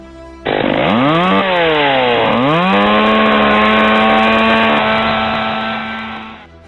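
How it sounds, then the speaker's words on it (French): A sci-fi chainsaw sword weapon roars in abruptly, its revving motor pitch dipping twice before holding a loud, steady buzz, then it fades and cuts off. "Épée tronçonneuse!"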